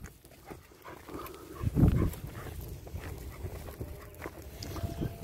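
Kangal dogs moving about outdoors, with a close burst of panting and snuffling near the middle amid scattered footsteps and faint background noise.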